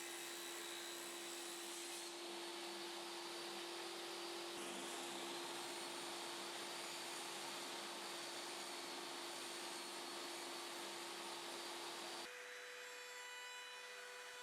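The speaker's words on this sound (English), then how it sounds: "Now I'll use the table saw to cut a recess for the profile." A table saw cuts a recess into a wooden workpiece on a sliding carriage workstation, with a loud, steady whining drone that runs for about twelve seconds before the pitch shifts as the blade spins down.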